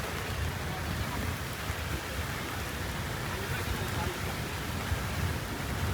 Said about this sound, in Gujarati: કેટલો મસ્ત વરસાદ આવ્યો.